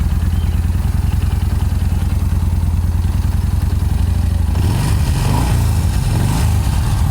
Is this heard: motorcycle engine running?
yes